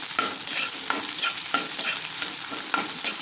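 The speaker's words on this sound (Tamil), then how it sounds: "நல்லா இது கோல்டன் ப்ரௌன் கலராக வெங்காயம் வரணும்" Onions fry in a pan for a radish sambar, cooking toward golden brown. A continuous loud sizzle fills the clip, cut by rhythmic scraping strokes of a spatula stirring them about every half second. No voices.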